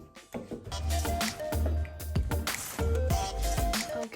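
Potatoes drop one by one into a pot of simmering Thai beef massaman curry, giving soft wet plops and splashes over a low bubbling hiss, close and fairly quiet.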